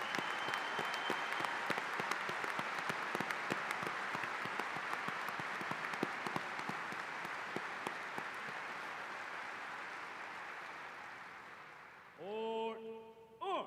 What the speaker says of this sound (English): I welcome all of you to join me in a heartfelt round of applause